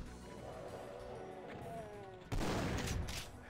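Shotgun fire in a video game bursts in loud and abrupt partway through, a heavy blast with rumbling gunfire that follows a stretch of quieter in-game ambience and tones.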